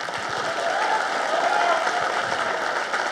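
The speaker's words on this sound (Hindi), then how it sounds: "मैं चाहूंगा कि जोरदार इनके लिए तालियां बजाए।" An audience at an artists' association event breaks into loud, sustained applause, with dense clapping that swells slightly in the middle and carries on evenly for the whole stretch.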